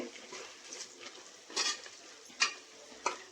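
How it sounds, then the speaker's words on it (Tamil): Onions being browned for a white peas biryani crackle softly in a pan. Three sharper scrapes of a spoon against the metal stand out from the quiet sizzle. "வெங்காயம் வந்து நல்லா ப்ரௌன் கலர் ஆகிற வரைக்கும் நல்லா மிக்ஸ் பண்ணி விட்டுக்கோங்க வெங்காயம் நல்லா வதங்கிடுச்சு"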